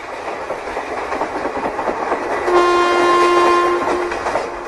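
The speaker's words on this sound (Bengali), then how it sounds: "রাতের মেল ট্রেন ঘন্টায় 120 কিলোমিটার গতিবেগে তখন হুহু করে ছুটে চলেছে" A night mail train races along at high speed as a dramatized effect, its steady rushing rumble joined midway by a sustained two-tone horn blast, with no voices.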